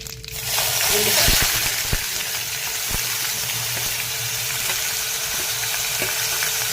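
Ground paste sizzles steadily in a hot pan for prawn curry, a loud, continuous frying hiss broken by occasional scrapes and taps of a stirring spoon.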